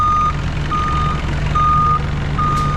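Forklift reversing alarm sounding four evenly spaced steady beeps over a continuous low engine hum, loud and close, with no talking.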